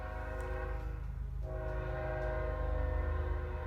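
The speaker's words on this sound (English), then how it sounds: "We're gonna wait for that train to go by." A train rolls past close by, a loud steady rumble of wheels and engine with a sustained horn tone holding throughout, no talking.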